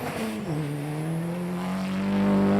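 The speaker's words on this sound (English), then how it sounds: "he's certainly on the gas on the way down the hill there" A lightweight rally car with a locked differential accelerates hard downhill on a forest stage, its engine note rising loud and near under faint tyre scrabble.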